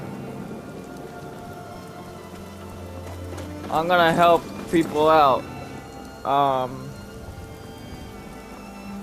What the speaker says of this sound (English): And it's raining.